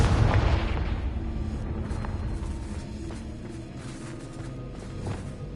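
A Confringo explosive spell in Hogwarts Legacy sets off a loud deep boom at the start, then a long rumbling roar that slowly fades.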